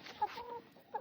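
A chicken in a backyard coop gives two short, soft clucks, one near the start and one near the end, in a quiet setting.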